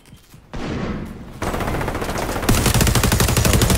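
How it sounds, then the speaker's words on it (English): Submachine gun fire in a video game, rapid automatic bursts that grow louder and denser over a few seconds, sharp and close, with no talk. "this SMG this guy has is crazy"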